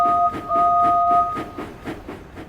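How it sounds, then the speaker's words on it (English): A train pulls away on its last departure, giving a steady two-tone whistle at the start over rhythmic, repeating chugs or clacks that keep a regular beat throughout, moderately loud with no voices. "it was time for the last train to depart."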